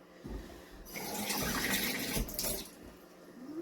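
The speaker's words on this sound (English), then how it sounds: "Add some water." Water runs from a tap into a container for dyeing pre-made fibre batts, a steady splashing gush that starts abruptly, swells and then eases off over a few seconds, with no voices.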